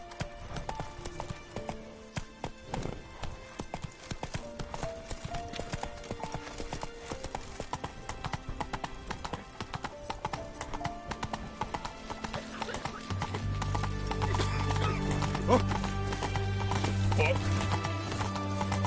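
Roach the horse galloping in The Witcher 3: Wild Hunt, steady rhythmic hoofbeats running throughout, with a whinny and a voice speaking over them, and a heavier low layer building toward the end.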